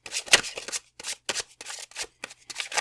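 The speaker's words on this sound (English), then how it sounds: "I'm going to shuffle those on top of the cards that were already shuffled." A deck of tarot cards is shuffled close up, a series of crisp riffling bursts separated by brief pauses, roughly eight quick papery flurries with no speech.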